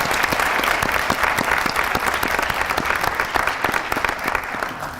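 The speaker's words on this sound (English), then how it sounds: "I would like to offer a round of applause for our moderator" An audience at a youth town hall on violence claps for the moderator and student panelists, a dense, loud, sustained applause filling the whole five seconds with little talk.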